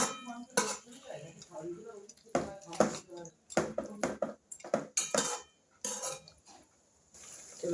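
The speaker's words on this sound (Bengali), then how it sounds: "এবার মাংসটা আমি ঢেকে দেবো এবার" A pot of cooking meat is being covered with a lid in a home kitchen, giving several sharp metallic clanks and scrapes in irregular bursts, close and fairly loud between quiet gaps.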